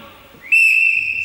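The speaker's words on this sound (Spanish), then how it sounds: "Silbido," A person whistles one sustained, clear high note that starts abruptly halfway through and holds steady to the end, loud and close, with no talking.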